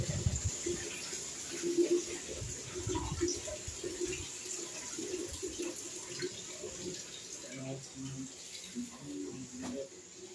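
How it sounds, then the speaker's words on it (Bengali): Tap water runs steadily into a sink at home while bottles are filled, a continuous splashing gush that stays fairly close and even, with faint background voices now and then. "আবার তো আজ হবে 12টার সময় কলে জল পড়ছে, তারপরে বোতলগুলো ভরে নেবো।"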